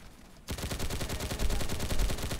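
Rapid automatic fire from new video game weapons such as a minigun breaks out after a brief quiet start and keeps going as a dense, fast, loud stream of shots with heavier booming thumps mixed in.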